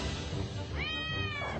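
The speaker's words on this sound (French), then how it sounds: "Regarde mon chat." A cat gives a single drawn-out meow with a rising then falling pitch, heard close over a low steady background rumble, with no talking.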